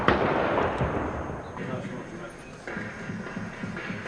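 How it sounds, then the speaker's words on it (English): Gunfire from soldiers answering incoming sniper fire in parkland beside a hotel in war-time Sarajevo, 1992: sharp, distant-sounding bursts and pops that stand out against a rough, noisy background where voices can also be heard. "Soldiers rushed to answer the incoming sniper fire."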